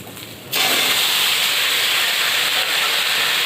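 Cauliflower, potato and lentil dumplings hit hot oil with a sudden loud, close sizzle that settles into a steady, even hiss.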